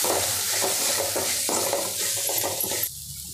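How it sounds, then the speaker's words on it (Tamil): Sprouted green gram is stirred with masala in a hot pan, giving a loud, close sizzle with repeated scraping strokes of a spoon against the pan before it quiets near the end. "நல்லா இந்த மசாலாவோட நல்லா மிக்ஸ் பண்ணி விட்டுடுங்க."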